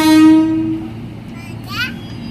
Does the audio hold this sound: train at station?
yes